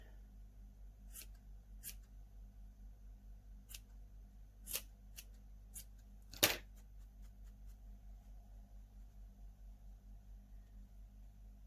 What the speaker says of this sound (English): Give it a quick snip round.